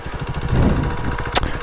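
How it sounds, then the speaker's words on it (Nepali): A KTM Duke 390 idling at night with its radiator fan running, a close, steady low engine hum with a whirring fan and a couple of brief higher ticks. "बाइक चाहिँ फ्यान चलिहाल्छ है मेरो चाहिँ"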